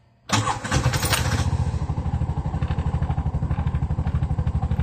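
A Bajaj RE tuk-tuk engine cranks and catches abruptly, then settles into a fast, even putter of rhythmic pulses close by, with no talking.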